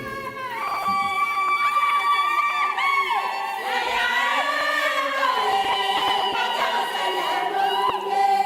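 A lively crowd, many of them children, cheers and shouts excitedly at an International Mother Language celebration in Kenya; the voices rise in loud, continuous waves close by, with little distinct clapping.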